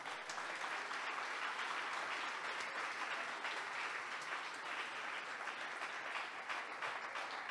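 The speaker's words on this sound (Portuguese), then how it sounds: "Quantos podem dar um aplauso ao Senhor?" A church congregation at a missions congress breaks into applause, a continuous dense wash of clapping that holds steady throughout without speech.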